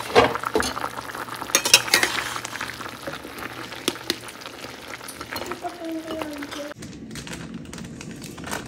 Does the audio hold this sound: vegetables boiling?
yes